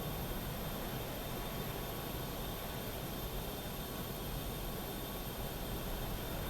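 A simulated airliner's jet engines roar steadily during takeoff in Microsoft Flight Simulator, a continuous broadband rushing hiss holding at an even loudness throughout with no voices.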